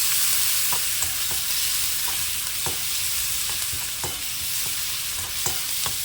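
Steady sizzle of onions frying in hot oil for Tamil egg podimas, with intermittent scraping taps of a spoon stirring the pan.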